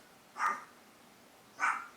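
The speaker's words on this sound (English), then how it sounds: "now my dogs are gonna start barking because they've been quiet all day" Two single dog barks, fairly close and moderately loud, spaced about a second apart against a quiet indoor background.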